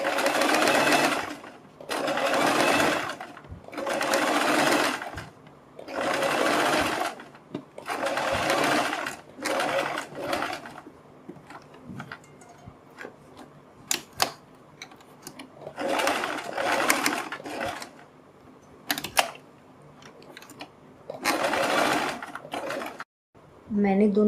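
A sewing machine stitches along fabric strips in repeated bursts of fast, even whirring, each lasting a couple of seconds. Short pauses separate the bursts, and the machine sounds close.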